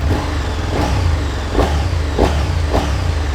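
KTM Super Duke 1290 motorcycle engine idling with a deep, lumpy throb, given several short, gentle blips of the throttle that rise and fall in quick succession, close up and without speech.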